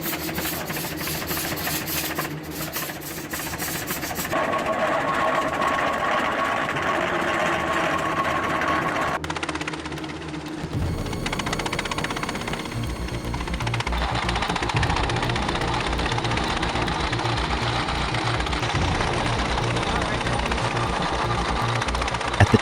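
A vintage Altman tractor engine, hand-cranked to start, runs with a steady rapid mechanical chugging and knocking that shifts in tone midway and continues loud and close throughout.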